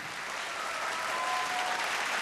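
Sustained clapping from a studio audience at a televised singing contest, a dense even wash of many hands at steady loudness, with no voices on top.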